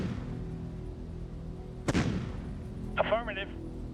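Artillery fire in the strategy game Shadow Empire: one sharp, booming shot partway through over a low background hum, followed by a brief burst of voice.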